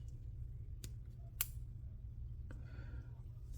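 A few quiet, sharp snips of the small scissors on a keychain multi-tool, spaced apart over a low steady hum, with no talking.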